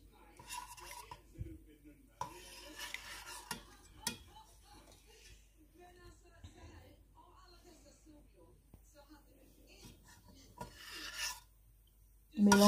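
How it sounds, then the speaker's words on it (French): A spoon vigorously stirs honey, water and lemon juice in a container, giving repeated clinking and scraping bursts in irregular spurts, close and fairly quiet. "Mélangez le miel, l'eau avec le jus de citron vigoureusement pour que ça se mélange très bien"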